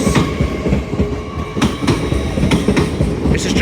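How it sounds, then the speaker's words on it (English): An LNER Azuma train passes close through Newark Northgate station on the East Coast Main Line, loud and continuous with rhythmic wheel clatter over rail joints and a rushing roar. "LNER Azuma service from Lincoln Central to London King's Cross."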